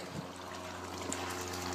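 A water pump runs steadily, with a continuous trickling, pouring flow of water over a low, even hum, close by and fairly quiet, with no voices.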